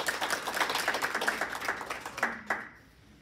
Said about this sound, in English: So a round of applause for all the TAPS readers